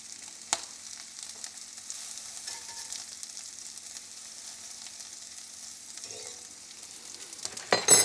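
Brisket frying in oil and butter in a cast iron pan gives a faint, steady sizzle with light crackles throughout, and a louder clatter near the end.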